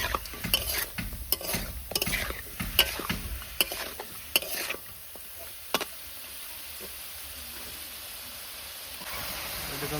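Chicken sizzles and fries in hot oil while a utensil stirs and scrapes through it in a string of sharp clatters, the steady frying hiss continuing on its own once the stirring stops.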